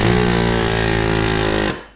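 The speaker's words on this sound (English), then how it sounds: "That air hammer does just good." Pneumatic air hammer driving out the front wheel axle of a 2002 Chevrolet Trailblazer, a loud, steady, rapid rattling burst lasting under two seconds that stops abruptly, with no talk.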